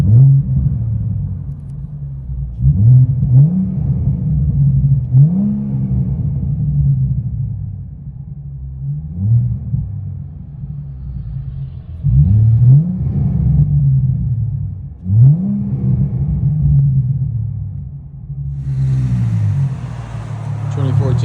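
Deep exhaust rumble of a 2014 Ford Mustang 3.7L V6 with aftermarket resonators, heard from inside the car, rising and falling in repeated revs and gear changes, loud and close, with a voice briefly near the end.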